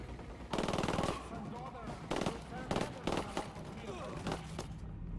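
Automatic weapon fire in the Ghost Recon Wildlands video game, with several loud bursts of rapid shots separated by short pauses and players talking over the action.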